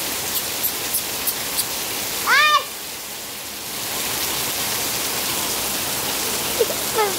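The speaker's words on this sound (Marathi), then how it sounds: "भरपूर पाऊस पडतं" Heavy monsoon rain in Konkan pours down in a continuous, loud hiss. A single bird chirps briefly partway through.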